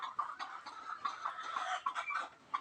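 Hens in a poultry shed clucking close by, a busy run of short overlapping clucks and calls from several birds, no talking.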